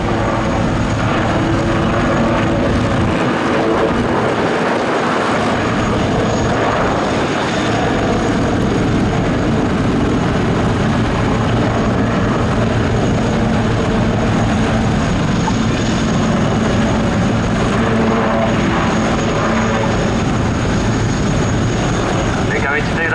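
Royal Navy AgustaWestland Wildcat helicopter displaying at Cosford Air Show, a loud, steady rotor and turbine roar that persists throughout, with a commentator's voice over the public address.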